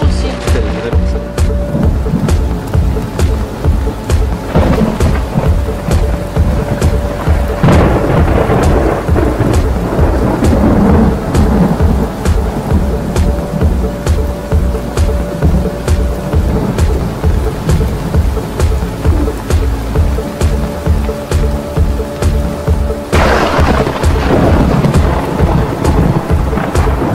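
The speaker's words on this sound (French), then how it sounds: "Il y a des éclairs aussi." Loud thunderstorm with heavy rain pouring close by, thunder rumbling and rolling repeatedly through the whole stretch, with a few faint voices underneath.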